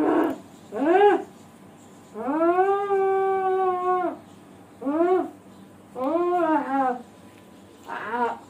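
A dog howls repeatedly, a series of six drawn-out wavering cries with short pauses between them, one long sustained howl in the middle, fairly close and heard alone without talk.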